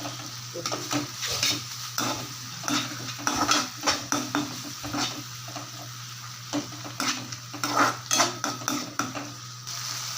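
Ginger garlic paste being stirred into sautéed mint and coriander in a pan, with a soft continuous sizzle under repeated metallic scrapes and clinks of a ladle.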